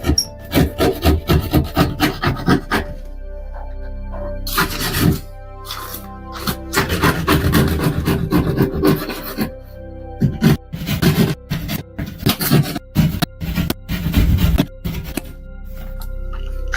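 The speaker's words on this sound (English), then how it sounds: "Now that paint and drywall is coming off." A scraper rasps paint and drywall off a wall in repeated rough bursts, loud and close, with short pauses between strokes and no talking.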